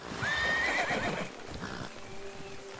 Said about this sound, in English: Giddy up, horse.